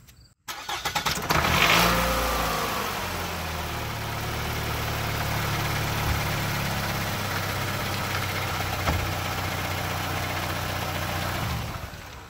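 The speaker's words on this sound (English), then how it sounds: "So I just started the car" Car engine cranks and starts, then settles into a steady, loud idle that runs on unbroken, close by, heard during a do-it-yourself brake change.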